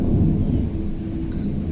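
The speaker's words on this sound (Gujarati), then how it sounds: "જોરદાર વરસાદ ગાજે છે" Low, rumbling thunder rolls through heavy rain at night, loud at first and then easing into a steady deep drone with rain hiss behind it.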